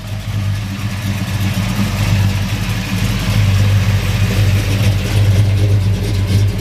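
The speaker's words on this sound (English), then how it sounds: "We'll go ahead and fire this beast up for you." A 1972 Chevrolet Chevelle SS small-block V8 idles through dual exhaust with a steady, close, low rumble that swells slightly partway through, with no voices.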